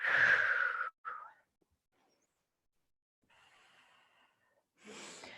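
A yoga practitioner breathes audibly: one long, close exhale, a short follow-up breath, a pause of near silence, then a softer airy breath and another inhale toward the end.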